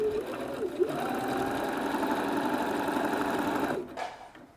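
A sewing machine runs steadily for a few seconds, stitching with a close, even whirring hum before it slows and stops.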